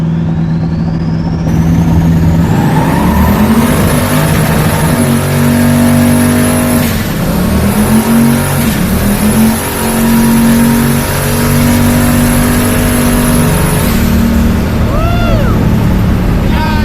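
LS 5.3L V8 in a Foxbody Mustang held on two-step launch control, a loud, continuous, stuttering rev with popping exhaust and steady high-pitched whine for most of the run, cutting out briefly midway and fading near the end.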